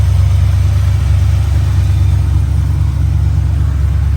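A 1978 Chevrolet K5 Blazer 2WD with an Edelbrock carburetor runs at a steady idle, giving a loud, close, continuous low rumble that holds even throughout, with no talk over it.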